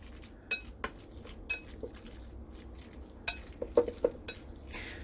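Pork slices tossed with a tablespoon of oil in a bowl for winter melon soup with pickled mustard root, giving a run of close, soft stirring scrapes and sharp clinks of utensil against the bowl at an irregular pace, with no talk.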